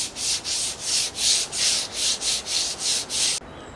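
Wood on a cabin being rubbed down with sandpaper: nine rhythmic back-and-forth strokes, close and loud with a hissy scrape, ending abruptly, no talking.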